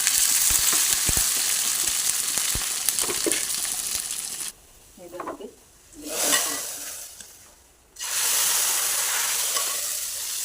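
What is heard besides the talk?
shallots and curry leaves frying in coconut oil for tempering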